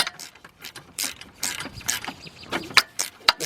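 Ratchet tightening the starter bolts on a BMW 745i, with a quick series of clicking pawl strokes and metallic ticks. The bursts come close and fairly loud, with short pauses between them.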